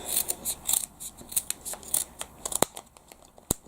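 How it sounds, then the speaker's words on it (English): Repeated quick scissor snips through yarn on a pom pom maker, a steady run of close, crisp cuts followed by a couple of sharper clicks. "we're just going to go in and snip all the way along"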